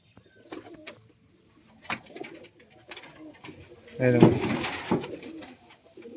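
Andra pigeons coo in soft, low bursts close by, with a louder stretch of cooing midway, while people talk intermittently around them.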